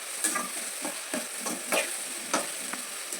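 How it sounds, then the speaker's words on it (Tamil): Chopped onions sautéing in oil with fenugreek and curry leaves for a village-style mango fish curry, a steady soft sizzle with regular clicks and scrapes of stirring spaced through the clip. "வெந்தயம் போட்டுட்டு கருவேப்பிலை போட்டுக்கலாம். கருவேப்பிலை போட்டுட்டு பொடியாக அரிஞ்சு வச்சுருக்க வெங்காயமும் போட்டு நல்லா வதக்கலாம்."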